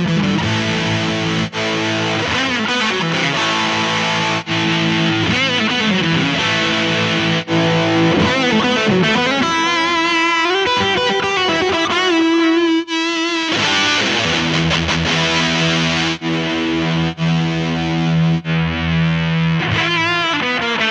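Heavily distorted electric guitar through a MOOER GE100 multi-effects processor's overdrive settings plays sustained, gritty overdriven chords and notes, loud and continuous with only brief shifts in tone.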